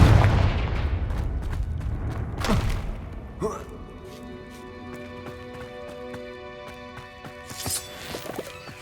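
Confringo fire spell cast in the Hogwarts Legacy video game, a heavy booming blast at the start with a thudding impact, then a softer second burst and lingering magical shimmer and ringing tones.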